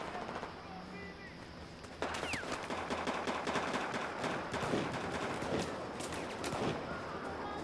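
Pistol gunshots ring out in Battlefield 4 gun game, pistols-only mode, as a rapid series of sharp cracks over a constant background of game noise, growing louder and denser partway through.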